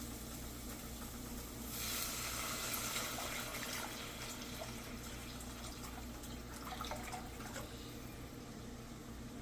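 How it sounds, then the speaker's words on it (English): Tap water pours steadily into a cooking pot as four cups are added for homemade ramen broth, a continuous splashing fill that swells slightly partway through, with no talking over it. "I'm adding 4 cups of water."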